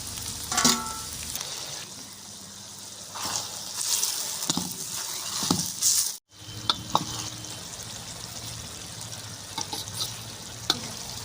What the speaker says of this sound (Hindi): ये शिमला मिर्च की टमाटर भी डाल देते हैं इसमें।